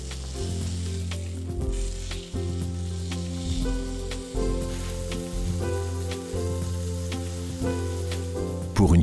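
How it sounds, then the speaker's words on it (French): Meat frying in a Demeyere stainless steel frying pan, a steady close sizzle with faint crackles, over a low background hum and occasional soft clicks. "Attendez 10 secondes et disposez la viande dans l'ustensile de cuisson"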